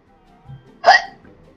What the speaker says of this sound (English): See the hiccups.